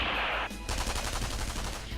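Rapid machine-gun fire from the video game Super Robot Wars Z3.2, a fast stuttering burst of close, loud shots following a brief rushing burst of noise.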